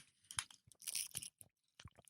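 Crunchy bites and chewing of a Portuguese custard tart with a flaky pastry shell, several sharp crackling crunches in quick succession, close and fairly quiet, with short pauses between them.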